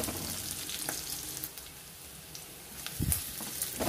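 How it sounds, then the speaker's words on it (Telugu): Onions frying over a medium flame, a dense close crackling sizzle broken by a couple of stirring scrapes. "ఇప్పుడు మీడియం ఫ్లేమ్లో మంటను పెట్టుకొని ఉల్లిపాయలను వేయించుకోవాలి।"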